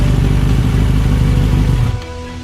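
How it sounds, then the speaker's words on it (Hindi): A motorcycle engine roars loudly and close at steady high revs, then cuts back to a low idle near the end. "अरे वाह, ये शानदार बाइक किसकी है?"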